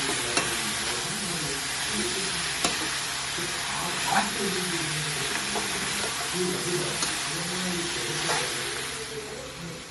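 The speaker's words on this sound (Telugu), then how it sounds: "మూత పెట్టుకుని మధ్యలో నిమిషంకి కలుపుకుంటూ ఉండాలి" Raw banana pieces frying with onions in a pan give a continuous close sizzle and hiss, broken by occasional scraping taps of a spoon stirring through them.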